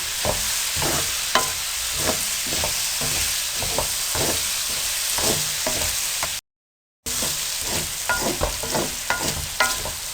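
Egg and potato fry stirred with a spoon in a pan over high heat: a steady, loud sizzle runs throughout, broken by repeated scraping strokes of the spoon, with a brief silent gap partway through.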